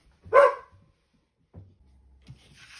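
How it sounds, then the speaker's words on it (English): A dog gives one sharp, loud bark nearby, followed by softer low huffs and a faint yip in an otherwise quiet indoor room. "Don't start barking, dogs."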